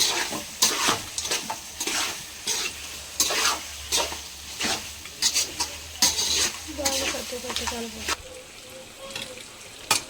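Beef with ginger garlic paste frying in oil for a curry, a close sizzle broken by frequent stirring scrapes and clanks of a spoon against the pot, with no talk.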